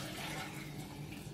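Chicken stock pours steadily into a measuring cup in a kitchen, a continuous close liquid splash and trickle heard alone.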